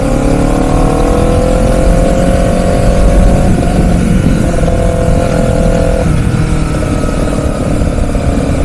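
A Honda CBR 250R motorcycle accelerating in third gear on an open road, its engine droning steadily and loud throughout with rising and shifting tonal whine, heard close with no talking.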